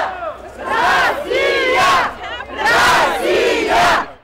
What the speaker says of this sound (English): they were faced with a hostile crowd shouting, "Russia, Russia, Crimea is Russian."